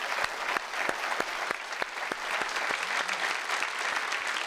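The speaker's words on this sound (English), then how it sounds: "great round of applause." An audience at a live public science talk about ocean worlds gives the speaker a warm round of applause, dense clapping steady throughout with a few sharp individual claps standing out nearby.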